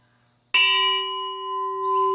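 A short cylinder bell is tapped once with a clapper, giving a sudden bright clang that settles into a steady, fairly high ringing tone with clear overtones, sustaining loudly without fading over two seconds.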